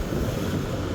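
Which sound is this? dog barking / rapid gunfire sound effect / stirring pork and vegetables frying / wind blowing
wind blowing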